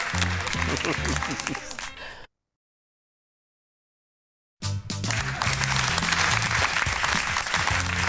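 Studio audience on a television show applauding, loud dense clapping and cheering with upbeat music underneath, broken by a short silent gap before resuming at full strength.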